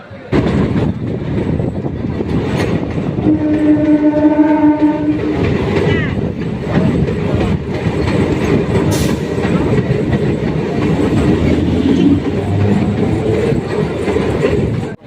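A Naihati to Sealdah local train runs with a loud, continuous rumble and rattle of carriages, a sustained horn blast sounding early on, and faint voices in the background.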